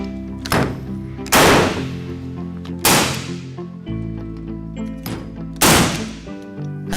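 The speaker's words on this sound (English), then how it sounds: "Powder-actuated tools give off a good kick, and bent arms will help you handle that recoil." Hilti DX 351 powder-actuated tool firing fasteners: three loud, sharp bangs spaced about one and a half seconds apart, each ringing out briefly, with no voices.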